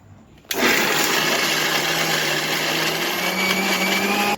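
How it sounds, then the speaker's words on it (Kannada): A mixer grinder blending raw mango and chana dal chutney kicks on after a brief pause and runs as a loud, steady, high whirring roar to the end. "ಈಗ ನಾ ಇದನ್ನು ಮಿಕ್ಸಿ ಮಾಡ್ತೇನೆ."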